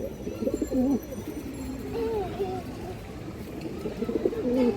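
A pair of Kaldam breed pigeons coo in repeated soft, rolling bursts close by, with faint background noise and a little talk around them.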